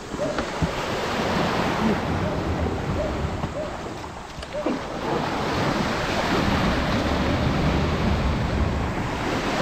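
Ocean waves at Capones Island wash and roar continuously near the shore, with heavy wind buffeting the microphone throughout.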